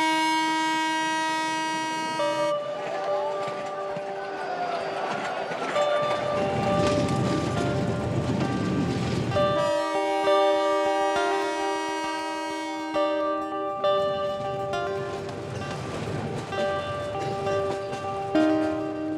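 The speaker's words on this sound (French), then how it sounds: "Avec la corne de brume, ton tympan peut exploser." A boat's foghorn blares on arrival at Dhaka, sounding several long, loud, deep tonal blasts with brief gaps between them, over a dull background din.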